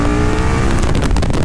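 A KTM Super Duke R motorcycle accelerating hard from 40 to 80 mph, a loud continuous engine roar climbing in pitch with heavy wind rush, close up and without talk.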